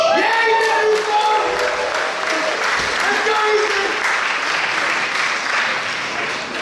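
Loud audience applause fills the space, dense and sustained, with a few whoops and voices mixed in before it gradually eases.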